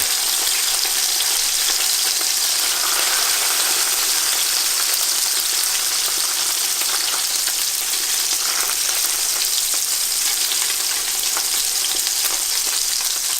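Fish fillets searing in butter in a hot pan on high heat: a loud, dense, continuous sizzle that stays even and close throughout, with no talking.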